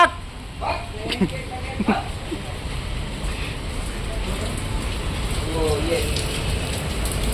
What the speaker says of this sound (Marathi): पाऊस जोरात पडतोय